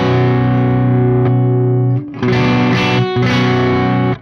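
A distorted electric guitar through a signature Fishman pickup on its inner coil: a sustained held chord, then two short choppy strummed chords with a brief gap, loud and up close.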